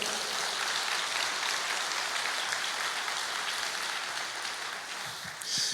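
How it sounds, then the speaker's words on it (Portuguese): Steady, sustained applause from a church congregation in Portuguese-language worship, a dense continuous wash of many hands clapping at even loudness throughout, with no voices standing out. "aplauda ao Senhor"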